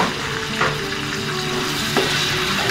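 Onions fry lightly in hot oil with a strong, steady crackling sizzle at close range and a couple of soft spoon scrapes, no speech.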